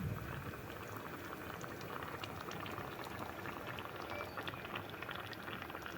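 Meatballs (tefteli) simmering in water in a pan, a quiet, steady bubbling with small irregular pops and gurgles close by, no voices.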